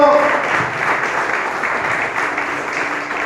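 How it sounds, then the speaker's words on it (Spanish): A church congregation applauds in a steady, dense wash of clapping that fills the room, loud and unbroken, with a faint murmur of voices underneath. "Denle ese aplauso a Jesucristo."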